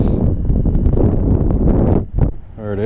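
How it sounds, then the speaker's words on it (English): Outdoors on a windy day while panfishing in Madison, Wisconsin, wind buffets the microphone with a loud, continuous rumbling roar that dips briefly before a short voice is heard at the end. "It's windy."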